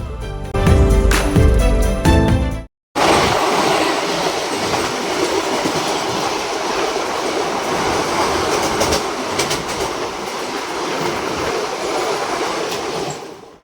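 The Haldibari Express passenger train rolls along the tracks after leaving Pakur station, with a loud, steady rumble and rattling wheels, close and continuous, after a brief burst of music and a short cut.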